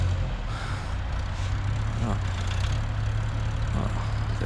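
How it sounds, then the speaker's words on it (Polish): A large tractor engine runs steadily with a deep, continuous low rumble, moderately loud, with faint hissing and clanks over it, on a snowy field road. "Ten większy, większy ciągnik."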